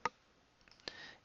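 A computer mouse clicks in a process simulation program, two short, faint clicks about a second apart in a quiet room.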